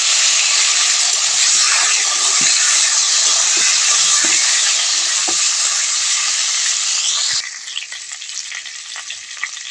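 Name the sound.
boiled potatoes frying in a kadai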